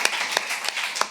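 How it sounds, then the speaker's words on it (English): A small group gives brief, sparse applause, a handful of hands clapping in a loose, uneven rhythm, fairly close and moderately loud. "little applause for bunny puking"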